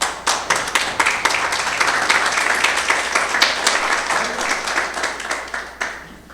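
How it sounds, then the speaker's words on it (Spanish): A church congregation bursts into applause during a sermon, dense clapping from many hands sustained for several seconds before tapering off near the end. "Dale un aplauso a Jesús."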